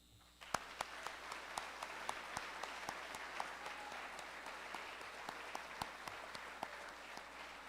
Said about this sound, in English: I'd like to ask the audience to join me in a round of applause for a job well done